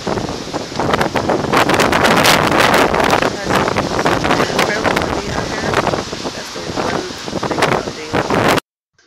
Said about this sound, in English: I'm gonna let you hear a little bit of how windy it was in just a moment.